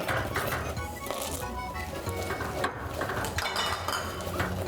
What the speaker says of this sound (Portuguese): Mexe sem parar até derreter, incorporar bem a massa.